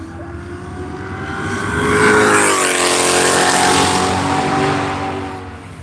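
A BMW M4 race car on the Nelson Ledges track during One Lap of America approaches and passes, its engine note rising to a loud, sustained roar before fading slightly as it moves away.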